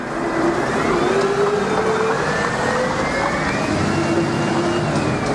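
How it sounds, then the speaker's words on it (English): A bin lorry rolls past on a Belfast street, a steady close rumble of engine and road noise that holds for several seconds without talk. "I should have videoed that once the, the bin lorry went past"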